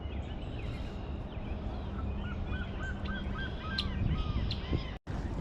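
Geese honk in a series of short calls along a riverside trail, moderately close over a steady outdoor background hum, with a brief cutoff near the end.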